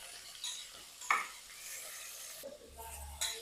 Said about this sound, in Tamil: நம்ம வதக்கிக்கலாம்.